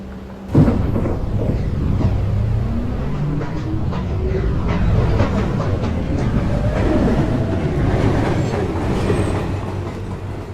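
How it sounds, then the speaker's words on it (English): A downtown local 1 subway train pulls into a station with a loud, continuous rumble, rhythmic clacking of wheels over rail joints and squealing metallic tones, starting with a sharp bang and staying close and steady throughout. "Downtown, local 1 train. Approaching the station, please stand away from the platform edge."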